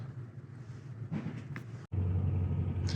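Low-mileage 1996 Impala SS with a Corvette-derived V8, its engine rumbling steadily from inside the cabin during a test drive, a deep continuous drone with a brief dropout near the middle.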